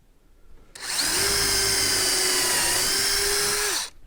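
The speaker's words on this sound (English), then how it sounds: "All right, we'll drill another hole." A power drill drilling a hole in redwood whirs loudly and steadily for about three seconds, starting abruptly and cutting off just as sharply, with a faint pitch drop midway.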